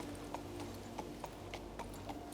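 Horse hooves clip-clop in a steady trot through the fantasy game King's Bounty II, a faint rhythmic run of soft knocks over a low background hum.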